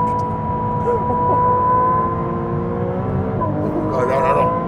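A Ferrari 296 GTB engine accelerates hard with a loud, continuous rising drone, while a passenger's excited exclamations sound over it throughout.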